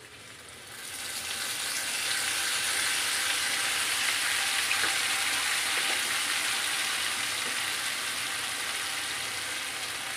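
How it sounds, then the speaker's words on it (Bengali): Ginger and poppy seed paste hits hot oil for dum aloo, bursting into a loud, close, continuous sizzle that swells within the first second and holds steady, with faint stirring underneath. "এবার দেব আদা আর পোস্ত বাটা।"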